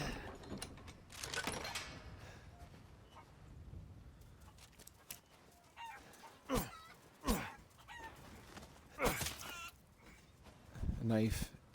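Chickens cluck and a rooster crows in the Resident Evil Village game world: bird calls come in scattered bursts over ambient game sound, loudest near the end, with no talk over them.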